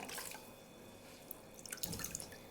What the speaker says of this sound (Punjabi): ਹੁਣ ਜੀ ਦੁਪੱਟੇ ਨੂੰ ਚੰਗੀ ਤਰ੍ਹਾਂ ਨਿਚੋੜ ਲੈਣਾ ਹੈਗਾ